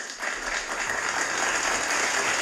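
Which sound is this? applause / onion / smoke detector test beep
applause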